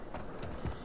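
Brief mechanical clicks and a creak of a weapon being reloaded in the browser battle royale game Mini Royale, quiet and close with a small thump near the end.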